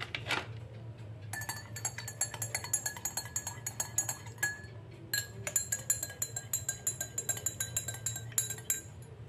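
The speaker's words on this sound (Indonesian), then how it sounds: "untuk perasa manisnya. Kemudian kita aduk." A spoon clinks rapidly against a glass while stirring boiled temulawak herbal drink sweetened with honey, a steady bright tinkling run with a brief pause midway, close and fairly quiet.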